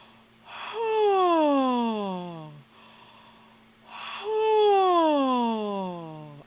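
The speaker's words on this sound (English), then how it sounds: "exhaling the breath through an open space, which includes feeling like a yawn" Two long open-throated exhales voiced like yawns during a voice warm-up, each a sustained sliding tone that falls in pitch, close and fairly loud, separated by a short pause.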